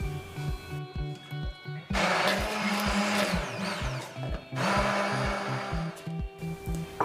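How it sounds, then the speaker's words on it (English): A blender whirs loudly in bursts, grinding green pepper and garlic with a little water in a rhythmic chopping pulse, motor pitch rising and falling as it runs nearby. "remove the green pepper and the garlic to grind it with the blender"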